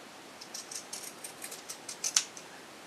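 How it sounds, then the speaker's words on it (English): Pinking shears snip through a cloth pad with a PUL backer, a run of quick, crisp cuts that grow louder and closer toward the end, heard alone. "To trim, I'm using my pinking shears."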